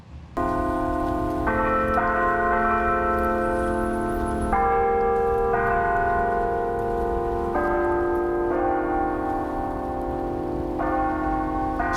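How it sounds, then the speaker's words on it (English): Chapel bells at a university chapel ring out a hymn melody at a memorial gathering, sustained ringing tones stepping from note to note, loud and continuous with no talking. "The bells first rang a verse from the hymn Amazing Grace, then tolled 3 times in memory of the players who were killed."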